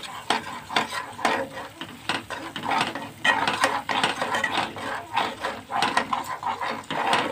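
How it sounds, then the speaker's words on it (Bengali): Yogurt gravy stirred constantly in a pan over a low flame, a spoon scraping and clicking in an irregular rhythm against a soft simmering sizzle, close and moderately loud with no talking. "একদম লো ফ্লেম করে হালকা হালকা হাতে কনস্ট্যান্টলি নাড়াতে হবে, যাতে দইটা ফেটে না যায়।"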